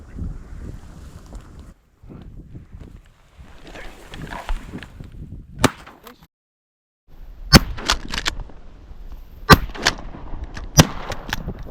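Several sharp gunshots crack out in the second half during a duck hunt, spaced a second or two apart, over gusty wind noise and outdoor rumble.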